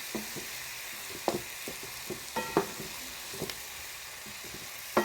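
Spiced minced meat fries in a pan under a soft steady sizzle, while a spoon stirs it with a series of light scrapes and taps on the metal at an uneven rhythm.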